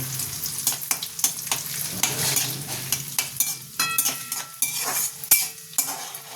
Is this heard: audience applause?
no